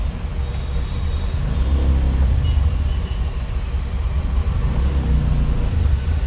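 A load auto goods carrier inches slowly through congested traffic, giving a continuous close engine rumble and road noise that stays steady and loud throughout.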